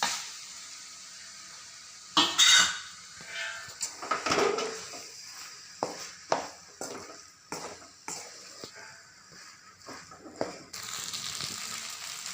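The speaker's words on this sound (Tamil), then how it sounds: "நெய் சேர்த்திட்டு இப்போ நம்ம வேக வச்சுருக்கிற கோதுமை ரவையை உள்ளே போட்டு கிளறிக்கலாம்" Cooked wheat rava is stirred into hot ghee in a pan for green peas rava pulao, with a steady run of spoon scrapes and clinks against the metal and a soft sizzle underneath, close and fairly quiet.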